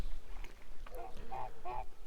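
Kholmogory geese give two or three loud, nasal honks in close succession at close range, with low rustling and outdoor noise underneath.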